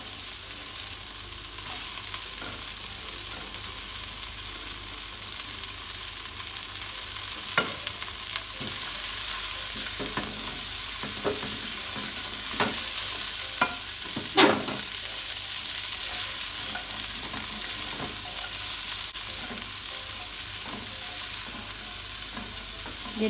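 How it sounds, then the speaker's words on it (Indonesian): Cabbage and green beans stir-fry in a hot pan with a continuous close sizzle, broken by scraping clicks of a spatula stirring the vegetables, with no talking. "Setelah harum, tumis juga kol dan buncis."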